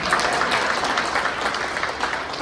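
An awards gala audience claps steadily, a dense wash of applause that stays loud and even throughout.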